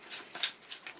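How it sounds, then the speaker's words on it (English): A card being shuffled back into a deck during setup of the Cytosis board game, with a few faint, brief papery riffles and slides heard up close and quiet. "I'll shuffle this one back in."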